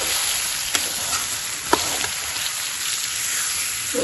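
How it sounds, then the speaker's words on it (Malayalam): Ghee heating in a pan sizzles and crackles steadily and loudly throughout, with a couple of faint clicks and no talk. "ഇതിലേക്ക് ആ നെയ്യൊക്കെ ഒന്ന് പിടിച്ചിട്ടുണ്ട് അതൊന്ന് റെഡിയായി വരട്ടെ"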